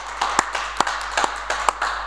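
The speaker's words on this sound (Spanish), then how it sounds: "le voy a pedir un fuerte aplauso también al grupo de aplaudidores." A studio group applauds in short, sharp bursts of clapping, about five distinct rounds in two seconds, close and fairly loud with no talking.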